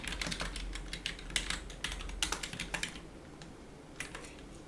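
Keys clatter on a computer keyboard while Korean text is entered in a graphics program, a quick uneven run of close, light clicks that thins out toward the end.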